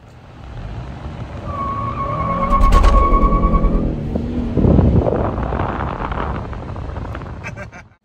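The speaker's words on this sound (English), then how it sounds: "So I give it a try to launch it at the traffic light" A 2021 Kia K5 GT mid-size sedan launches hard from a traffic light, its engine note rising through the gears before a shift and a renewed surge of acceleration, with road and wind rush throughout.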